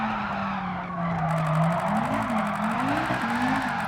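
Tires squeal and skid continuously as an all-wheel-drive car slides through a drift in Gran Turismo 7, engine drone rising and falling beneath the loud, sustained screech.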